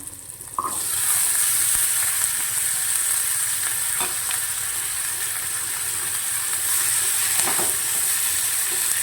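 Carrots and peas stir-fried in a pan while making Maggi noodles, a loud steady hiss of frying that jumps up after a brief quieter start, with occasional clinks of a spoon against the pan.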